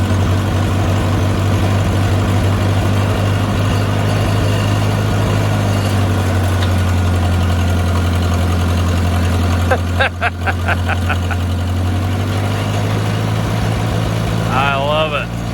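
A 1968 farm machine's engine idles with a steady low rumble and a strong, constant droning hum, loud and close, with brief rhythmic clicks partway through and a short burst of other noise near the end.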